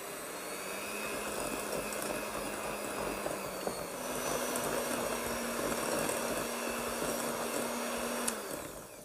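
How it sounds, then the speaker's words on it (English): Electric hand whisks beating butter and sugar for a Victoria sponge, a steady loud whirring drone held throughout with a slight rise in pitch partway, no talking. "Now speed up your whisks. Keep moving the whisks around as you beat"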